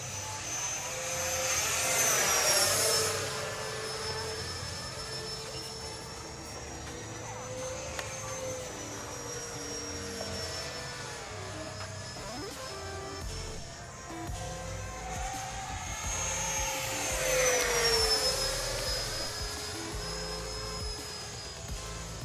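Freewing Zeus 90mm RC jet on an 8-cell setup, its electric ducted fan whining in two loud passes with rising and falling pitch, easing to a fainter drone between them.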